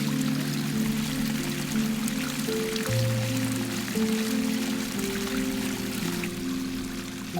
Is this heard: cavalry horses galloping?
no